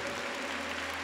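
Short wash of clapping from a church congregation at a Catholic mercy festival, dense and steady, with a low hum underneath.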